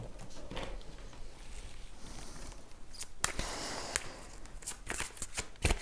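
Tarot cards handled and laid down on a table, a soft steady rustle and shuffle with sharper snaps and taps toward the end, close and quiet, with no talk.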